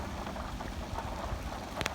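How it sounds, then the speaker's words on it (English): Steady rain falling over a flooded pasture after heavy downpours, a dense, even hiss close by with no voices. "Still raining, but the water went down."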